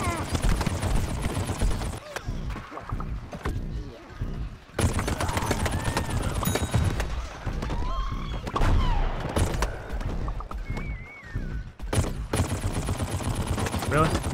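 Rapid weapon fire from a Bandit Cactus in the shooter game Plants vs Zombies Garden Warfare, fighting around a Zomboss, loud bursts of repeated shots in several runs, broken by short gaps, with game effects layered in.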